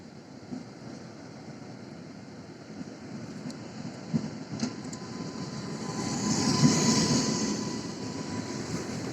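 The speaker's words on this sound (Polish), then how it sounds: "tak, jest to mój pociąg" A train rumbles and hisses as it pulls in, swelling louder toward the middle with faint clanks and wind noise over the steady roar.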